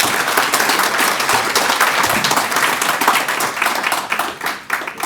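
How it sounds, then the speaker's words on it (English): Audience applause welcoming a journalist to the stage at a talk, a dense, steady clapping from a full room that holds throughout. "please just give a warm round of applause for one of my favorite journalists, Melanie Phillips."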